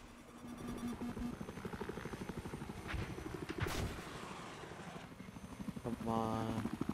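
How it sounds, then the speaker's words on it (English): Helicopters in a combat video game beat steadily with rapid rotor chop throughout, mixed with gunfire bursts and a sharp blast, while players talk over the din. "Oh, there's so many helicopters in the air."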